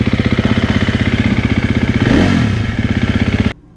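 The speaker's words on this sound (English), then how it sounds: "Definitely has more of a grunt sound to it, which I'm pleased with. Exhaust sounds deeper, way less restrictive than it was before." A 2024 KTM 350 XW-F dirt bike with a remapped ECU idles loud and close with a rapid, pulsing exhaust thump. It gives one brief rev midway, then cuts off abruptly at the end.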